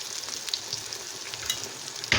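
Stale bread slices fry in a pan with a steady, close sizzling hiss that carries on evenly, with a soft clink right at the end.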